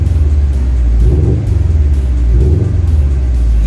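A Subaru WRX STI boxer engine rumbles steadily up close, with low throbbing pulses and a brief dip in revs midway.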